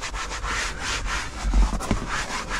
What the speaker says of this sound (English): This is just to get most of this dirt out of here.